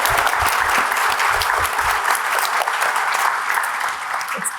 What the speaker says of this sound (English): give a round of applause for these amazing advocates and coming together